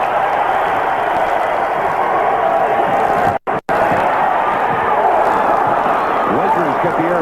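Arena crowd at a 1989 Lakers–SuperSonics playoff game in Seattle roaring after a spectacular rebound, a dense sustained cheer with a brief dropout midway, under a play-by-play commentator talking.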